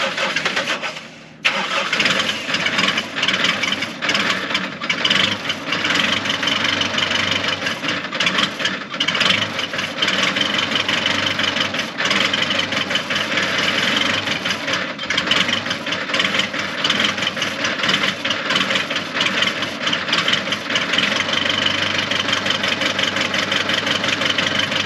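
A tractor diesel engine cranks and catches, then settles into a loud, steady idle with a continuous rumbling drone for the rest of the clip.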